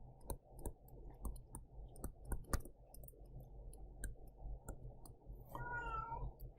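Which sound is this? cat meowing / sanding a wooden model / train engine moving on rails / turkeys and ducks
cat meowing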